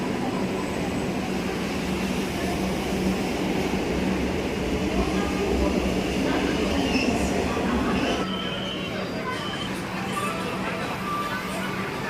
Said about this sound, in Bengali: এই মুহূর্তে এখন আমরা সবাই মেট্রোতেই আছি